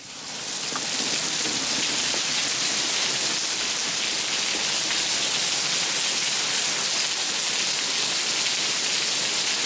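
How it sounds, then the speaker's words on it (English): Heavy rain pours down in a storm, a dense, steady hiss of drops on surfaces that holds loud and unbroken throughout. "I'm recording the sound of the rain"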